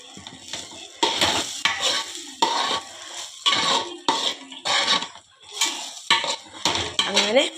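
A spatula repeatedly scrapes and clanks through fried rice in a metal pan in a home kitchen, in rhythmic bursts over a soft sizzle, close and fairly loud.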